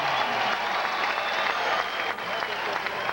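Applause and crowd noise fill an indoor arena after a long volleyball rally at the 1995 AVP Evian Indoor semifinals, a steady dense roar of clapping held loud throughout.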